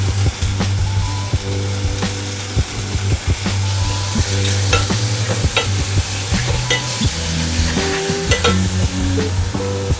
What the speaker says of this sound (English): you want to cook the mushrooms on quite a high heat